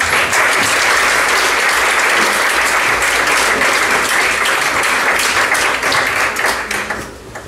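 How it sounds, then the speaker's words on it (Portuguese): A lecture audience applauds with dense, sustained clapping for about seven seconds. The clapping stays loud and even, then thins out at the very end. "Precisamente no momento em que há o aplauso"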